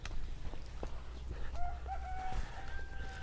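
A native chicken rooster crows partway through over outdoor farm background noise, with a few scattered clucks and rustles around it.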